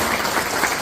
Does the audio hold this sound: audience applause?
yes